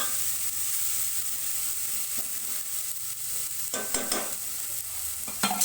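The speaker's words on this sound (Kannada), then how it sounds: "ಈ ಹುರ್ಲಿನ ಸ್ವಲ್ಪ ಹುರ್ಕೋಬೇಕು ಎಣ್ಣೆಯಲ್ಲಿ ಹುರಿ ಕಡಿಮೆ ಇಟ್ಕೊಂಡು ಸ್ವಲ್ಪ ಹುರ್ಕೋಬೇಕಾಗುತ್ತೆ ಇವನ್ನ" Horse gram sprouts fry in oil over low heat with a steady close sizzle, broken by a few louder stirring scrapes toward the end.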